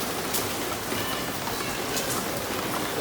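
Steady rain pouring down, a dense, even hiss of drops hitting surfaces that continues unbroken throughout, fairly loud and close, with no voices.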